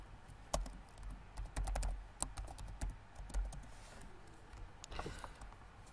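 Typing on a computer keyboard while writing Java code, with clustered key clicks and taps, some louder strokes, at close range over a faint background hiss.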